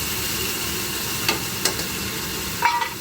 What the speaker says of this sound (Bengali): দেখো বেশ অনেকটাই আলু ভাজছি আজকে